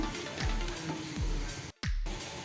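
Onion cooks in a pan for cabbage egg bhurji with a steady, gentle sizzle, broken by spoon scrapes and one brief cut-out, and no voice.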